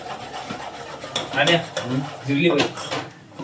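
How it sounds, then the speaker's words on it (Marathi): Chicken gravy being sautéed over full heat in a pan, repeated metal spoon scrapes and clinks against the vessel, close and fairly loud, over a faint sizzle with no talk. "आता व्यवस्थित त्याला 2 मिनिटं नाही का फुल गॅस करू परतून घेऊया"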